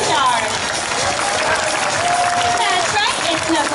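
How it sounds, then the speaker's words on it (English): Spectators at an aquarium sea lion show clap and cheer in a dense, even wash of applause, with a faint tonal line, likely music or a voice, running underneath. "So put your hands together and help me welcome your two stars"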